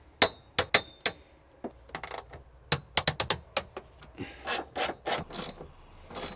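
A wrench turns the strut brace nuts on a BMW E46 M3 rear end. Short, sharp ratcheting clicks and scraping metal sounds come in irregular bursts, close and fairly quiet.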